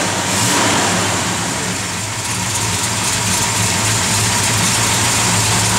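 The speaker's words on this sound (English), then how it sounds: "Hear that cam in there working" A 1967 Plymouth GTX V8 rumbles steadily up close, its lumpy cam idle swelling into a brief rev and settling back, loud and continuous with no talking.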